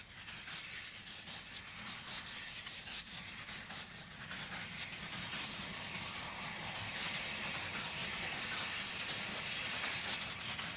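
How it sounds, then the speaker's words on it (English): An old narrow-gauge steam locomotive, the Earl, puffs steadily out of a Welsh station, a continuous hiss and chuffing rhythm with rolling carriages, close and fairly loud throughout. "the gallant old locomotive, the Earl, as it puffs out of Castell Carignan."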